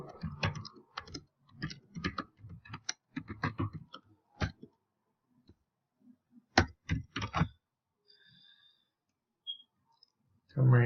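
A computer mouse gives light, crisp clicks in short bursts, up close and fairly quiet, heard between and under stretches of talking.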